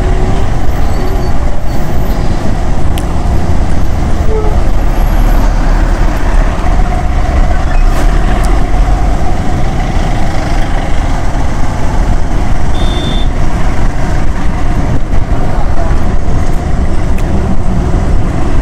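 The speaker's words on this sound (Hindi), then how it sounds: "तो ट्रैफिक बहुत ज़्यादा है।" Heavy traffic on the Mahatma Gandhi Setu bridge over the Ganga in Patna: a steady, loud, continuous roar of trucks, buses and cars, broad rumbling engine and road noise throughout with no talk.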